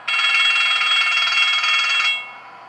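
An electric bell from an MTH R32 model subway train set rings continuously for about two seconds, bright and buzzing, then cuts off, leaving quiet hum.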